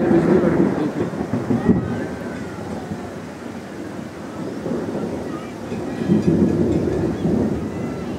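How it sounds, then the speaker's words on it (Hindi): Thunder rumbles in the mountains during a rainstorm, a deep rolling growl that swells, fades and swells again across several seconds with rain hissing underneath. "अभी बिजली भी कड़क रही है"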